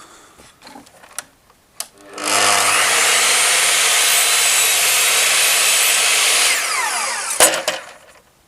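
A Bosch GCM 12 GDL radial miter saw with a new blade cuts through wood: a few light clicks, then a loud, sustained high whine for about four and a half seconds, ending with a clack as it winds down.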